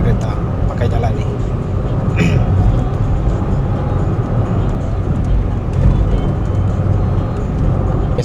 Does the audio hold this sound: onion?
no